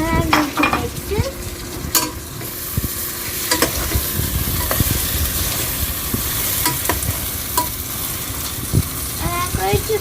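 A spoon stirs tomatoes into sautéed onions and ginger garlic paste in a hot pan while cooking chicken biryani, with scraping and clinks over a steady sizzle.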